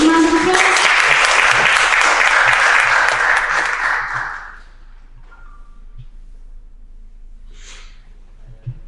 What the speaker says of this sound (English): Do you want to give him a round of applause?